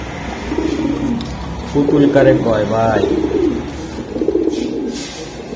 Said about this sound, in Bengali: ভাই এটা হলো বাঘা কবুতর।